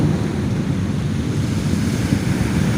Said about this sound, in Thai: ความบริสุทธิ์ของธาตุลมจากชายหาด ที่สายลมพัดเบาๆ ตอนนี้